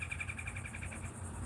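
An outdoor bird calls in a rapid repeated series of high, even notes, steady and fairly close, with a low rumble of background noise underneath.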